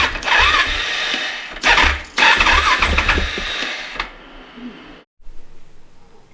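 A KTM 690 big bore motorcycle engine cranks in a starting attempt, with loud close churning bursts that stutter, pause, then resume before cutting off, followed by quieter background noise.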